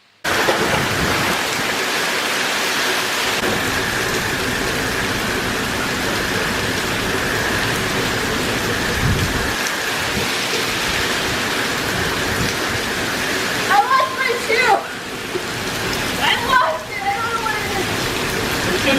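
Heavy rain pours steadily during Hurricane Irma, with a constant loud roar of water and gusting wind throughout and a few brief louder surges near the end.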